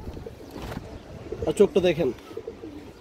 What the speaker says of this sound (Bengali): দুধের কবুতর এটা